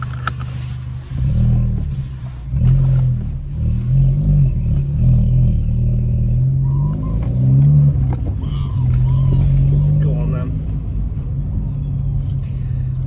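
A VW Scirocco 1.4 TSI Twincharge with its exhaust back box removed rumbles and revs in uneven surges, loud and close, with someone speaking briefly over it.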